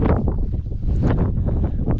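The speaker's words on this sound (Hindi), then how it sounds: "हवा चल रही है खतरनाक" Strong storm wind buffeting the microphone in heavy, continuous gusts at a campsite during a thunderstorm, a loud roaring rumble with no clear voices.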